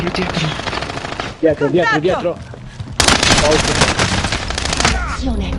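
Rapid bursts of automatic gunfire rattle loudly and almost continuously in a PS4 video game, mixed with shouted Italian voices and a brief pause before the firing resumes heavier.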